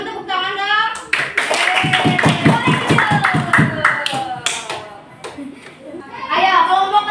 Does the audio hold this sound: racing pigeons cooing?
no